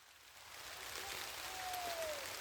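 Steady rain patters on surfaces in a soft, continuous hiss, with a faint whistling tone rising briefly near the end.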